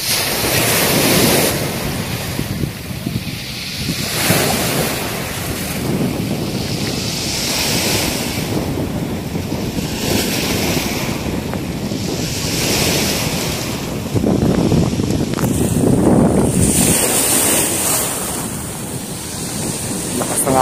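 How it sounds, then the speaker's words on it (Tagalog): Manila Bay surf crashing and rolling in continuously, loud and close, with heavy wind buffeting the microphone. "Alon."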